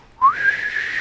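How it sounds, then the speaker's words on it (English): A character in the video game Fahrenheit: Indigo Prophecy whistles a single clear note that rises sharply, then holds steady for most of a second, close and clean with no talking. "Why is he whistling?"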